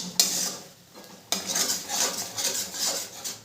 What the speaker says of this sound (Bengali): আবারও একটু জল দিয়ে মশলাটাকে কষাবো